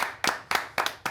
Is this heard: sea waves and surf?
no